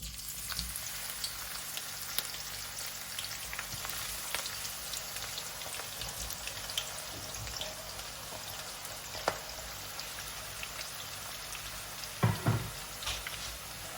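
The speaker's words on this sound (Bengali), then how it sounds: "পেঁয়াজগুলো একদম গরম অবস্থায় ভাজতে হবে, তেল ভালো করে গরম করে তারপর ভাজতে হবে" Thinly sliced onions fry in very hot oil, a continuous crackling sizzle with scattered pops and a few louder spatters near the end, close and steady with no talking.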